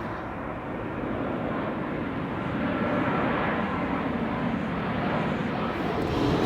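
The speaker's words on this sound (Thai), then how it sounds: "เสียงเครื่องบินค่ะ เดี๋ยวรอให้เครื่องบินไปก่อนนะคะ" Airplane flying overhead in England, a steady broadband roar that holds loud and even throughout with no voices over it.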